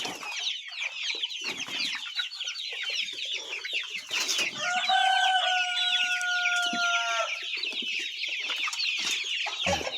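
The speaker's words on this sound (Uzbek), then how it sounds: "Jo'jalarimiz holati." Black chicks and roosters on a farm flock cluck steadily. One rooster gives a loud, drawn-out crow in the middle over the constant chatter of the birds.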